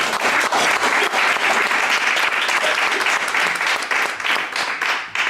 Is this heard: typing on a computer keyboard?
no